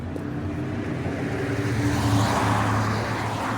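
A car passes along a road beside traffic, a steady engine and tyre rumble that swells slightly and holds near, with no talk over it.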